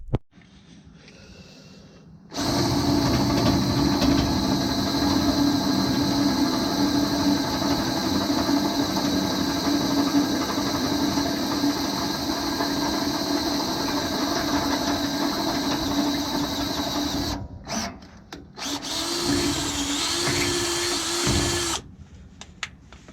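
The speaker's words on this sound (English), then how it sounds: "and we're going to drill some holes." A power drill whines loudly and continuously for about fifteen seconds while drilling holes in a truck frame rail, dips briefly, then runs again before cutting off.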